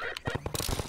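Quick rattling bursts of an automated turret firing in Half-Life 2, a rapid string of sharp shots packed into about a second, with voices briefly mixed in.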